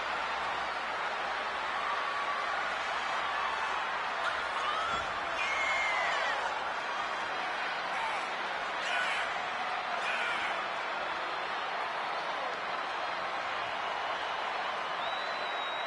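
Sold-out arena crowd in the WWE 2K25 wrestling game at WrestleMania Tokyo, a steady, dense roar of cheering and noise that holds at an even level throughout, with occasional whistles and shouts rising above the wash.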